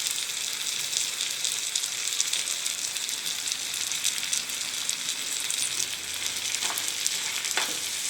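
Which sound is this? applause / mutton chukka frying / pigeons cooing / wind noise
mutton chukka frying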